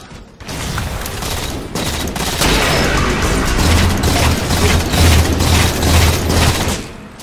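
Dense, continuous gunfire and explosions from the Halo 4 video game, a loud sustained barrage of overlapping shots and booms.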